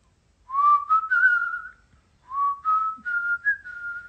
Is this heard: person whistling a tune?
yes